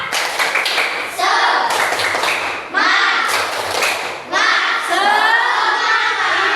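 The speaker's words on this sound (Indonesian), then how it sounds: "Tepuk semangat." A group claps in a rhythmic pattern mixed with children's shouts and chanting, loud bursts of thumping claps separated by short pauses, during a classroom lesson.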